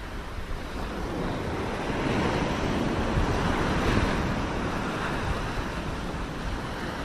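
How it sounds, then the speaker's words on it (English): Rough ocean surf pounding a New Jersey beach, a steady broad roar of breaking waves with wind buffeting the microphone, swelling slightly in the middle and continuing without any voices. "The water was very, very rough at the moment."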